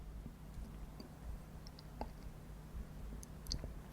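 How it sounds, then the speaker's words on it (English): Typing on a ZSA Voyager keyboard, heard as faint, scattered key clicks in an irregular rhythm over a quiet background, with no talking. "I can use the keyboard to type"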